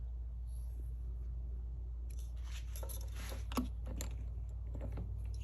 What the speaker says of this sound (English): I want to cut just on the one side of that fret